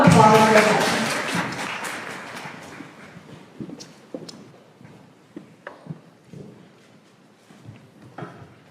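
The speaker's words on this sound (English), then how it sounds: "give a round of applause for them" Audience applause for four panel guests at a creator panel event, loud and dense at first, then thinning over several seconds into scattered individual claps and a few voices.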